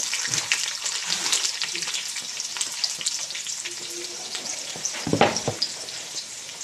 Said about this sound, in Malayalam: ഞാൻ ക്യാരറ്റും കൂടി ഉള്ളിൽ വറുത്തെടുക്കാൻ വേണ്ടിയിട്ട് ഇടുന്നുണ്ട്